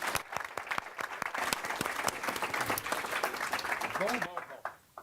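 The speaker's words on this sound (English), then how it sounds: "let's give a warm round of applause for our 3 guest speakers" Conference audience applauding three guest speakers after a morning session on LGBTQI2 rights research, a dense roomful of claps that tapers and fades near the end, with a voice briefly heard.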